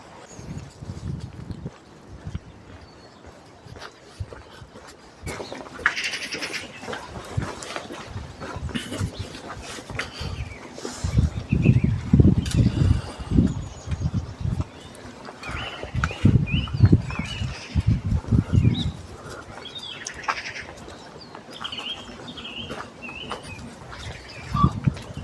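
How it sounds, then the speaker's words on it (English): Birds chirp and call faintly outdoors during a dog walk, while footsteps crunch steadily along underneath. "I just wondered if we could hear any birds in this one."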